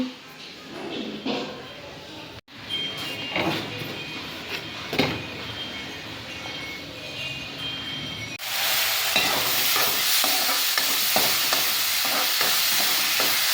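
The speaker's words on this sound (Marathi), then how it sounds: "गवार पण अशी तळायची. त्याला हिरवी मिरची लसूण टाकून तळायची, मस्त लागते." Cluster beans frying with green chili and garlic in a home kitchen pan, a close sizzle with stirring clatter that jumps louder and brighter partway through, with occasional faint voice in the background.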